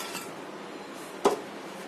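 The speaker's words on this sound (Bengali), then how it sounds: "এখন একটা বড় বাটিতে ঢেলে নিচ্ছি" Fried pieces of a flour and sour yogurt dessert are tipped into a large bowl, making a single close clatter against the bowl amid otherwise quiet kitchen background.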